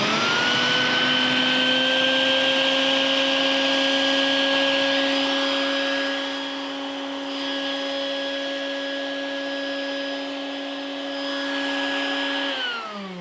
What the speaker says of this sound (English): are you ready for me to turn on the vacuum?